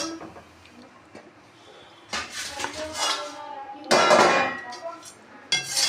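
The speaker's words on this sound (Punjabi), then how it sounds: "ਹੁਣ ਆਪਾਂ ਇਹਨਾਂ ਨੂੰ ਕੱਢ ਲਈਏ ਥਾਲ ਦੇ ਵਿੱਚ" Roasted black chickpeas are scraped and tipped from a hot metal kadai onto a plate, producing bursts of clattering, rattling metallic clinks in several loud rushes separated by quieter pauses.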